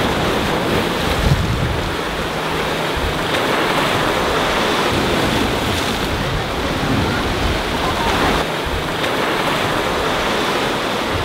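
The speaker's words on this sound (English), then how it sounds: "now we're getting some gnarly waves coming up from the beach here" Ocean waves breaking on a beach at Florianópolis, Brazil, a steady, loud roar of surf with gusting wind buffeting the microphone throughout.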